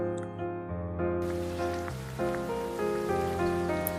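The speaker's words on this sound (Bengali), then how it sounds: "এভাবেই সন্ধ্যা কেটে রাত হলে আর বৃষ্টি শুরু হয়।" Steady rain falls at night in an animated folk tale, a continuous hiss of drops spread evenly across the clip and mixed with soft background music.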